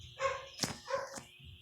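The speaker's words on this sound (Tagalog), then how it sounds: "Meron pa nagtatawanan na aso." Creature dog laughing in the forest survival game 99 Nights in the Forest, two short barking, laugh-like yelps with a bright tonal edge, close and clear over quiet background.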